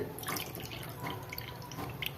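Steady splashing of water pouring into a metal pan of sugar for making sugar syrup, with a continuous hiss and small drips, no voices.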